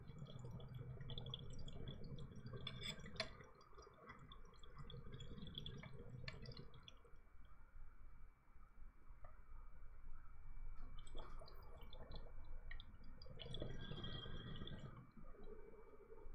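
Water pipe bubbling during two long tokes of sugar wax, with low gurgling bursts rising and falling over a faint steady background and no talk.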